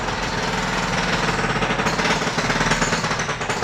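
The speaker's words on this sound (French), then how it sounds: "Marteau piqueur et compagnie." Jackhammer pounding at street roadworks, a loud, continuous rapid hammering rattle close by, with dense broadband clatter and no speech over it.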